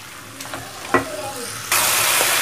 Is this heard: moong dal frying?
yes